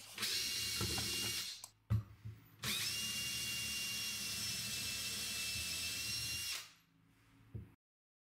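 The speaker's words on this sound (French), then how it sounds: "pré-percer les trous de fixation du plan de travail" A power drill pre-drills fixing holes for a desk worktop in two loud, steady whirring runs, a short burst and then a longer drilling pass, each ending with the motor spinning down, and no voices.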